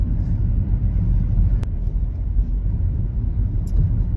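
A dense low rumble of tyres and engine fills the interior of a car driving on wet roads in rain, steady and close, with a couple of faint clicks.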